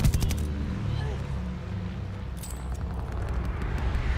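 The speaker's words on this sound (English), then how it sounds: "Teammate called a bombing run." Bombing-run explosions in the game Call of Duty: Vanguard, low rumbling booms and a heavy blast at the start that settle into a sustained distant rumble with scattered crackles.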